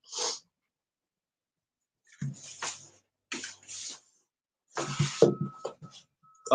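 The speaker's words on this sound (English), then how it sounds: "I ain't want y'all to hear me sneeze" A single sharp sneeze bursts out at the start, followed by quieter rustling and a few muffled sounds, then louder handling noise near the end.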